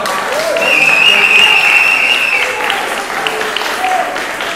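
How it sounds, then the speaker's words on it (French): Audience applause at a cabaret show, loud and close sustained clapping with some whistles and cheering voices mixed in throughout. "je crois qu'on peut encore l'applaudir."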